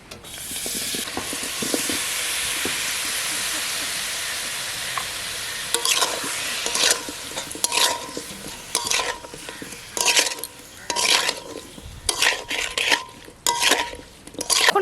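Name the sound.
stirring and cooking down sugar syrup for morabba in a kadai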